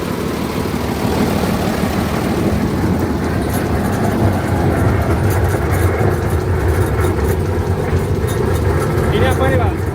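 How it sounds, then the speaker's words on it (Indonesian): A rail lorry locomotive powered by an Isuzu engine runs steadily along sharply curving track, its continuous engine drone and rail rumble loud and close throughout, with people talking over it. "Silinder mesin Isuzu."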